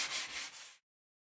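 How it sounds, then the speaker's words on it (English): A short burst of dry, rasping sandpaper rubbing across an aircraft test mold surface during mold prep, close and fairly quiet, then silence. "I'm just going to start sanding this."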